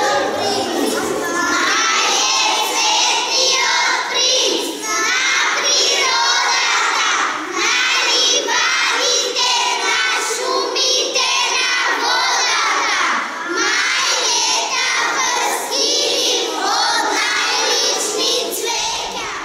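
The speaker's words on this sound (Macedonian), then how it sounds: "воодушевените детски лица кои што денеска во еден глас ги кажуваа неговите стихови" Many children chanting verses together in unison at a book launch for a children's poetry collection, a loud, dense crowd of young voices sustained throughout.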